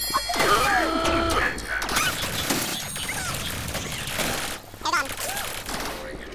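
Rapid bursts of video-game gunfire crackle throughout, dense and loud, with other game effects layered in and voices talking over the shooting.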